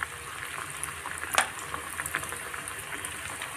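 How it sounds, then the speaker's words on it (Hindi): Bread aloo snacks frying in hot oil in batches: a steady bubbling sizzle with scattered pops and crackles, close and continuous, with one sharper splatter. "अब फ्राई करते हैं इसे ऑयल को गरम कर लें बबल्स आने तक और बैचेस में फ्राई कर लें"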